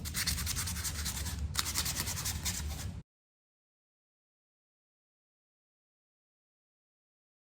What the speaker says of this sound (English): take your sandpaper and just smooth it out